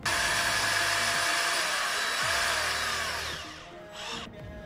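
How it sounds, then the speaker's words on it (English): A power screwdriver driving screws into wood while building a mahogany-stained bench, a loud continuous motor whine with pitch dips under load, fading near the end. "Use a screwdriver to screw in the screws"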